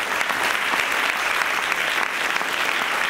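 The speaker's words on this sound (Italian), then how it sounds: "sarei contento di sentire degli applausi vigorosi" A theatre audience at a book talk applauds vigorously, a dense continuous wash of many hands clapping at a steady level for the whole stretch, with no voice over it.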